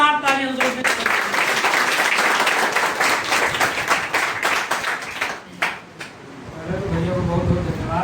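Students in a classroom break into loud, dense applause that lasts several seconds, fades briefly, then comes back as scattered claps. A voice talks over the end.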